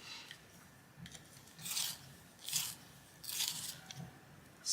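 A deep red colouring pencil is turned in a sharpener, giving several short grinding, rasping bursts up close with pauses between them and no voices.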